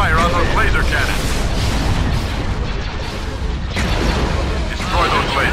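Laser cannon fire and explosions in a Star Wars video game set during an invasion of Mandalore, a loud, continuous barrage of blasts and booming impacts with battle noise throughout, and voices heard in the mix.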